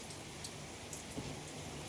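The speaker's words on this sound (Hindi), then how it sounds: "बारिश हो रही है झमाझम" Heavy monsoon rain falls as a soft, continuous hiss heard from a distance, with a few faint drips standing out and no speech.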